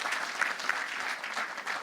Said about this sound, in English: Round of applause for my panelists.